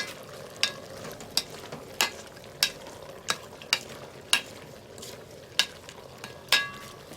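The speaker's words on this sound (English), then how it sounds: "We put more cilantro and then mix them together." Herb chicken mixed with fresh cilantro in a pot over a gentle sizzle, a utensil knocking and scraping the pot in regular sharp strokes about every second, close and with no talking.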